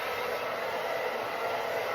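A hair dryer blowing steadily on medium heat, a close, constant broadband whoosh with no pauses and no voices.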